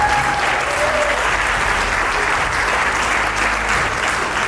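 An audience at the first Festival du cinéma de Châteauguay applauds the film Plan d'ensemble with steady, dense clapping that fills the hall and holds loud and even throughout.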